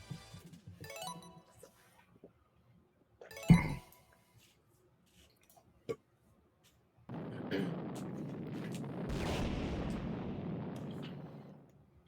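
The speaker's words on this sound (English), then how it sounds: "World's crustiest explosion." An explosion in the video game Sonic Superstars: a loud, crunchy, rumbling blast that lasts several seconds, following a few short, sharp game effects and stretches of quiet.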